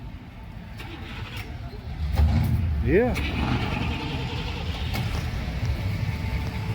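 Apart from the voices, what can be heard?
classic car engines starting at Hot August Nights car show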